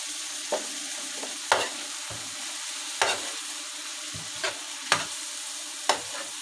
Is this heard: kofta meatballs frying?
yes